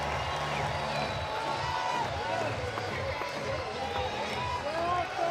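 Steady roar of a baseball stadium crowd at a banana ball game in Tacoma, Washington, a broad continuous cheer and murmur with scattered whoops and claps, with voices talking over it.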